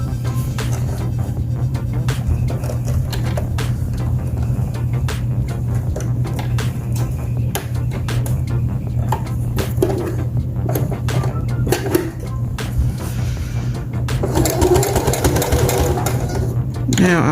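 A sewing machine back stitching a pair of baby pants, running as a steady, close mechanical hum with rapid needle clatter, growing louder and busier toward the end.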